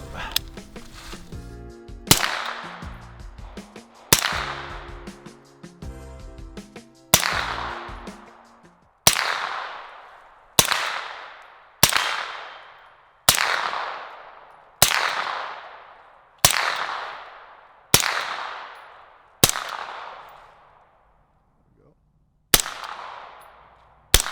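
Suppressed firearm firing subsonic rounds, a series of about a dozen sharp cracks spaced a second or two apart, each trailing off in a short decay, fairly loud and with no talking.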